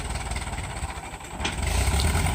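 Ford 8N tractor engine running under load while spreading clay with a loader and box blade, a steady close mechanical rumble that grows louder in the last second.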